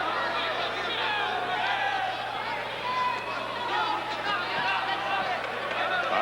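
A crowd of several thousand fills Memorial Auditorium during a boxing match, a steady loud babble of voices and cheering with no pauses.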